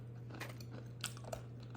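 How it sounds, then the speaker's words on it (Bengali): Sweet nuts being eaten up close: several crisp bites and crunches scattered over a soft chewing sound, with a low steady hum behind them and no talking. "মিষ্টি মিষ্টি বাদাম খেতে অনেক মজা লাগে।"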